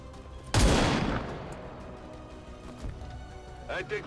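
One sudden, loud gunshot blast in XCOM 2 rings out and slowly decays, followed by quieter game sounds and a brief voice near the end.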